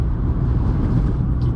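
Turbocharged Honda Jazz engine with a steady, loud low rumble throughout, a continuous near drone without distinct revs or gear changes.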